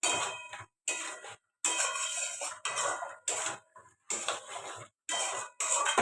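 Prawn curry being stirred in a pan: rhythmic scraping strokes of a spoon against the metal in short bursts separated by brief silences, close and fairly loud, with no talking.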